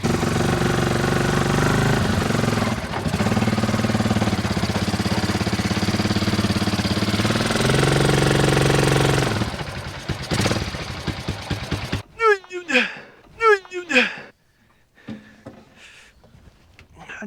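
Mini 4x4 rock crawler engine on a trail, a loud, steady, rough drone for about ten seconds that then cuts out, followed by scattered brief knocks and scrapes in near quiet.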